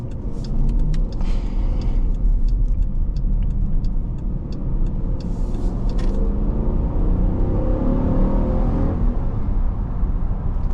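A 2025 Dodge Durango R/T with an eight-speed automatic accelerates, heard from inside the cabin as a steady deep engine rumble mixed with road noise, with faint ticking and clicks early on.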